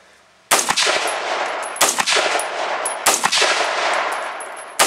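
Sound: 6.5mm Grendel rifle being fired

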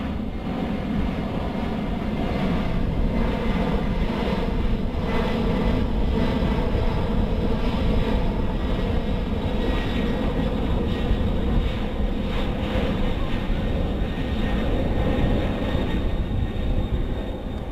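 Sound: military transport aircraft flying during paratrooper airdrop

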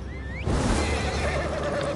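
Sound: horse neighing in video game Elder Scrolls Online

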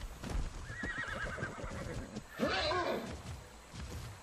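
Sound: horse neighing in a video game

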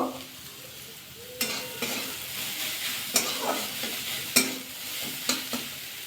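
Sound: cauliflower frying with turmeric and cumin powder

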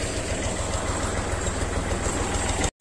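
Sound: tractor engine running a tubewell

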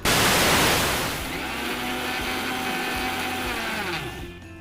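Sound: mixer grinder jar grinding green gram into fine powder

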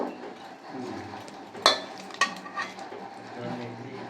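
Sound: kneading onion pakora mixture by hand

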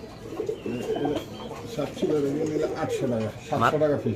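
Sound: pigeons cooing at a pigeon market

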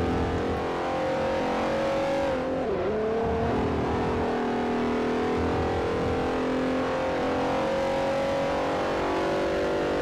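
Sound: racing car engine revving in Forza Motorsport 4 video game

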